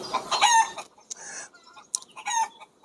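Chickens cluck and a rooster crows in short, loud bursts with brief pauses between them, close by and with no talking.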